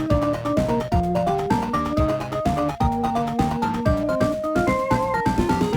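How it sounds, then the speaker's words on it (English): Music from the video game Sonic 3, featuring an out-of-tune, off-key bell instrument over dense, continuous synthesized melody and bass, steady and fairly loud with no talking. "Around 30 seconds in, we get this weird bell sound."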